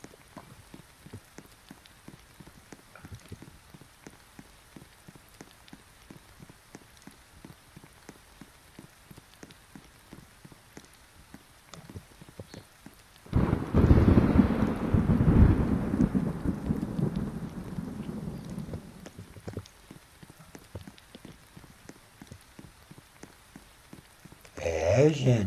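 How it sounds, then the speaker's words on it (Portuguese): Heavy rain pours steadily on a surface with a loud rolling burst of thunder in the middle, stretching for several seconds before the downpour continues; a voice is faintly heard at times. "Tá chovendo muito aqui"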